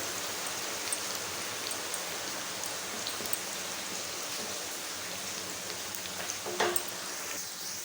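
Sliced onions frying in a pan for a mushroom masala until golden brown, a steady close hiss and sizzle with a brief sharper crackle near the end, no voices.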